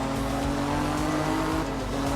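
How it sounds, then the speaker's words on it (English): A race car engine drones steadily at low revs, with a turbo whine and a constant mechanical roar from a racing game. "Low revs. And then the turbocharger kicks in."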